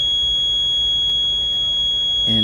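A multimeter set to continuity on the leads of a Whirlpool dryer control timer gives a steady, loud, high-pitched beep lasting the whole clip, with a brief thud near the end.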